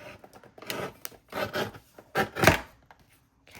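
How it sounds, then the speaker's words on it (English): Sheets of paper being trimmed by hand for junk journal envelopes, giving a few short, close scraping and cutting strokes in irregular bursts with brief pauses between them. "So I'm going to trim these down to about 6 1/4."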